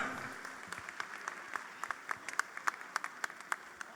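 Hall audience applauding at a Hindu New Year honoring ceremony, scattered then steady clapping with distinct individual claps standing out, moderately loud and continuous for a few seconds.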